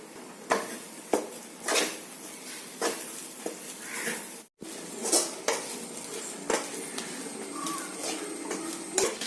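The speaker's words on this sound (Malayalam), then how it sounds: "തേങ്ങയും പച്ചമുളകും കറിവേപ്പിലയും ഗോൾഡൻ നിറമാകുന്നവരെ വറുക്കണം." A metal spatula scrapes and clinks against a pan of roasting coconut, green chilies and curry leaves in irregular strokes, with a soft frying hiss underneath and a brief silent gap midway.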